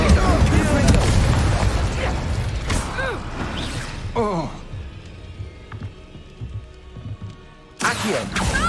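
Confringo blasting spells fired in the Hogwarts Legacy video game, with booming bursts and crackling impacts over busy game effects; one loud blast lands near the start, then quieter rumbling, and a sharp burst near the end.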